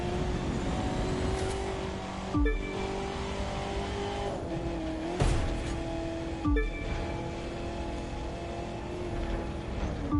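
A 4x4 four-door sport truck driving in The Crew 2 racing game, a steady loud engine drone with periodic gear shifts and brief revving surges every few seconds, close and continuous.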